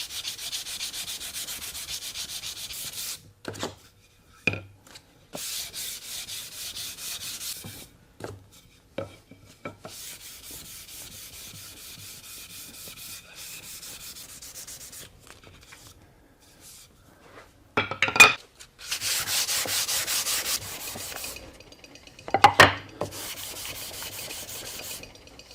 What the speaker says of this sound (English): So a little sanding here.